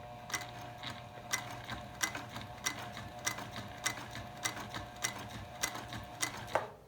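A heavy-duty sewing machine stitching through 16 layers of cotton fabric, running at an even pace with a steady motor hum under regular sharp ticking beats from the needle punching through.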